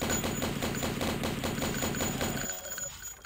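Rapid automatic gunfire in the Blood video game, a fast steady stream of loud, close shots lasting a couple of seconds before cutting off into quieter game ambience.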